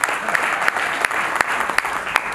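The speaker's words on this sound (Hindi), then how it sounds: "तालियां वालियां बजा के और ज़्यादा बजा रहे" Audience clapping at an award ceremony honoring poets, a steady dense wash of applause with sharper individual claps standing out now and then, sustained and fairly loud throughout.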